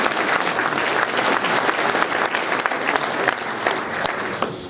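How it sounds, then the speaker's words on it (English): An audience at the Headway Awards 2013 ceremony claps warmly and steadily, the sustained applause close and full for several seconds. "Round of applause for Jackie, please."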